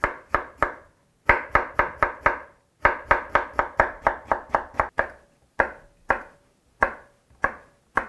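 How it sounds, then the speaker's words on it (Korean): A knife slicing pickled cucumbers (oiji) and garlic scapes on a cutting board, crisp close chops coming in quick runs of several strokes with short pauses between, loud and alone with no voices. "오이지하고 마늘종을 다 썰었습니다"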